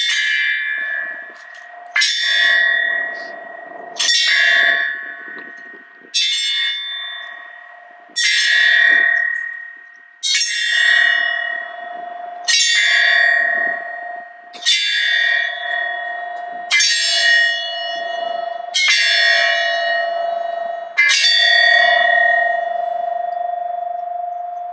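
Church bells toll eleven times at a Memorial Day observance held by a veterans' peace group, each strike spaced about two seconds apart and ringing bright and loud, with a long shimmering decay carrying into the next stroke.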